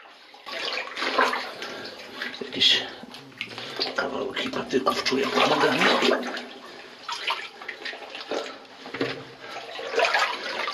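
Footsteps splash and slosh through water inside an old mine adit in Osiecznica, a rough, continuous churning close to the listener, while someone speaks briefly over it.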